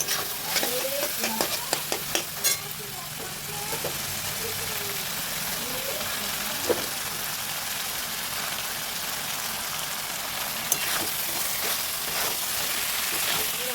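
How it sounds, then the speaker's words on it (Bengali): Spicy chicken-ball chow mein tossed and stirred in a hot pan, a steady broadband sizzle with sharp scraping clanks of the spatula early on and a couple of isolated knocks later, close and continuous with no talk. "এদিকে আমার এটা পুরোপুরি ভাজা হয়ে গেছে, এবার আমি চাউমিনটা মিক্স করবো।"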